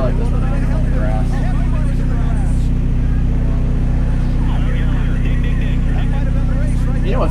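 NASCAR stock cars racing up a hill in a dense, continuous engine drone with steady low rumble throughout, the roar swelling slightly near the end, with commentary voices mixed under the noise.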